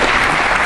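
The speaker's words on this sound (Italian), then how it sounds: "Sento dalla tiepidezza di questo applauso" Lukewarm audience applause at an Italian political talk, a steady wash of clapping, loud and close throughout with no voices over it.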